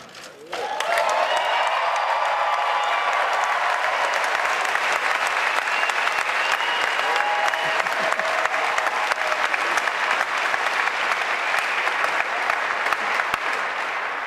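Presidential debate crowd bursting into loud, sustained applause and cheering, starting abruptly and holding a dense, even roar of clapping throughout without letting up.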